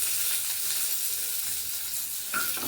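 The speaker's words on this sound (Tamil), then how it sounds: "கடுகு பொரிய ஆரம்பிச்சிருச்சு" Mustard seeds and urad dal crackle in hot oil during tempering for a Tamil chutney, a steady close sizzle with a brief brighter pop near the end, no voices.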